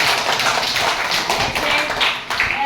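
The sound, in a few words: students clapping hands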